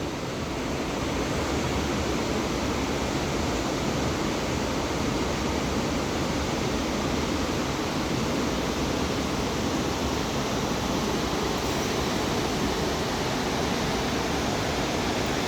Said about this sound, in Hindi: नदी का आवाज़ सुनो, काफ़ी अच्छा लगता है